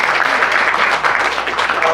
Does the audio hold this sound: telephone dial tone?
no